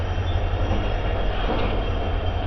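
A WDG4 diesel locomotive hauls a train into a station platform, a dense, steady rumble with low engine drone, heard from on board without talk.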